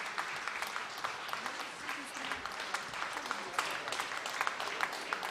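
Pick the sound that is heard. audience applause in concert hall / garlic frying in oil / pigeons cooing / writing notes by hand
audience applause in concert hall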